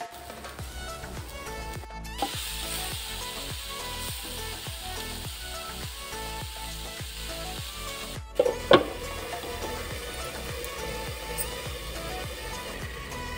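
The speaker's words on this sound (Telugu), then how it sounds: "ఒకసారి ఇప్పుడు 3 టమాటాలు చక్కగా బాగా మాగిన టమాటాలు ఇలా కడుక్కొని ఇవి కూడా కట్ చేసుకొని వేయించుకోవాలండి" Three ripe tomatoes, washed and cut, sizzle steadily in a frying pan, with a run of regular stirring scrapes and a couple of louder clatters partway through; no one speaks.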